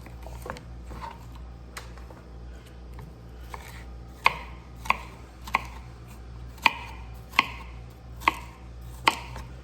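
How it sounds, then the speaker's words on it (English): Vegetables sliced with a knife on a cutting board, crisp evenly spaced chops that grow louder and more regular partway through, with no talk. "you just do some little quick slices, quick rough slices"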